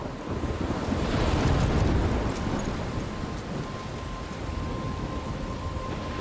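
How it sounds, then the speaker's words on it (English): Video game storm roaring steadily with wind, crashing waves and rumbling thunder, loud and continuous with a heavier swell early on, no voices. "I'm trapped in a storm?"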